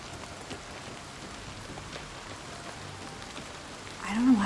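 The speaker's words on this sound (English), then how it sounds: "I don't know why it's so rainy." Rain falls steadily in a video game, a continuous soft hiss of drops on surfaces throughout, with a brief louder sound rising at the very end.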